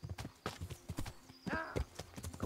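Horse hooves clop in a steady rhythm on a road in Kingdom Come: Deliverance, close and moderately loud, with a brief whinny-like tonal sound midway.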